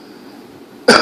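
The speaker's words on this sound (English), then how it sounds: "so that's what it's like for me to cough" After a moment of near silence, a single short, light, painful cough from a person with cancer bursts out close to the listener.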